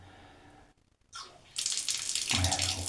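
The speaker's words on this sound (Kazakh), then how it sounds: "Мына міне жер астынан шыққан кәдімгі суық су міне." Cold underground water gushes from a pipe, starting after a brief pause and swelling into a loud, steady splashing flow up close.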